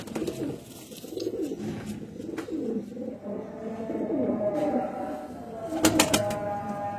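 Patti wale pigeons coo in a low, rolling series of soft repeated calls, close and fairly quiet, with a few sharper clicks near the end.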